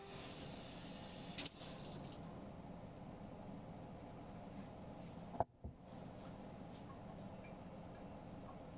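Hot water runs steadily from a kitchen tap while vegan baking, a continuous hiss with a brief clunk and gurgle partway through, close and moderately loud.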